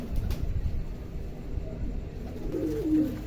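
Pigeons feeding on scattered grain give a low coo near the end, heard over background rustling.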